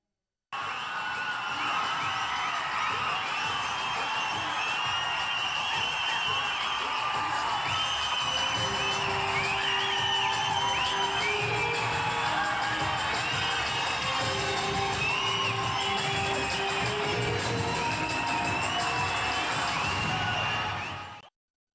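Fans at a Rohini cinema screening of the Tamil film Dheena in Chennai cheer, whistle and shout continuously in a dense, roaring crowd that stays loud throughout.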